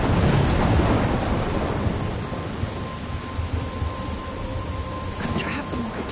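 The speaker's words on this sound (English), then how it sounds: "I'm trapped in a storm?" A thunderstorm in the game Life is Strange Remastered, with heavy steady rain hissing and a deep rumble of thunder rolling at the start, then fading into continuous downpour.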